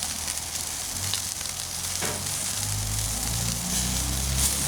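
Bacon cheeseburgers topped with melting cheddar sizzle on a grill, a steady broadband hiss and crackle that stays even and close throughout, with a low hum underneath and no talking.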